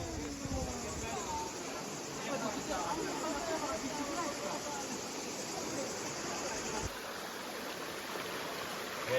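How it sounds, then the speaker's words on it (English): A river rushes out from a natural spring in Sicily, making a steady, broad, hissing wash of flowing water that continues without a break, moderately close, while people talk faintly in the background. "we're starting to hear and see the river"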